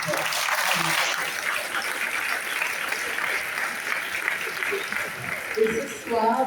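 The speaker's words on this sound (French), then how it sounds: "Alors je crois qu'on peut vous applaudir très fort." Loud sustained clapping from an audience at an awards and closing ceremony, a dense even roar of hands lasting the whole stretch with a few voices rising near the end.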